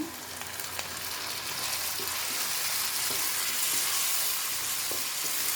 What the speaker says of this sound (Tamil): பச்சை வாசனை போகிற வரைக்கும் நம்ம வதக்கணும்